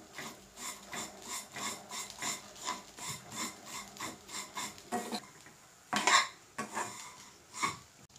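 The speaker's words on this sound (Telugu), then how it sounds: "అడుగంటకుండా ఒకసారి కలుపుకోవాలి." Thin vermicelli (semiya) being stirred in ghee in a pot, heard as a close, rhythmic series of scraping utensil strokes against the metal with steady sizzling underneath, then a couple of louder clanks near the end.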